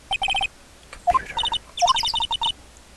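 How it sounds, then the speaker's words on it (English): Bright synthetic bird chirps in the game Phoenix Wright: Ace Attorney, loud and close, in quick repeated bursts of short tones with a few warbling calls between them. "Those birds are really loud."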